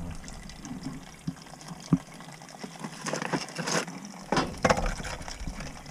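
Water runs from a sink and tub into a cast iron sewer drain, a steady trickling, gushing flow with occasional louder splashes and knocks, fairly close and without talk.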